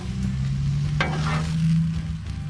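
Ground beef sizzles on a Blackstone flat-top griddle with a constant frying hiss over a low hum, and a single sharp spatula scrape cuts in about midway.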